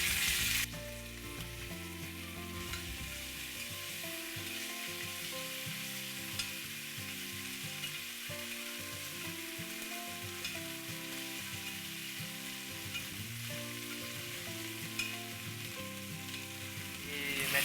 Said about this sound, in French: nous ajoutons l'ail et gingembre tout fini écrasé d'avance